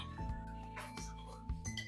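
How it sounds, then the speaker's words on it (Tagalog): A spoon clinks against a cup while a cup of coffee is stirred, producing bright ringing taps in a few separate bursts over a low steady hum, close by and moderately quiet. "Pero bago tayo kumain, magtimpla muna ako ng kape."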